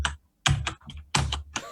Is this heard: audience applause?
no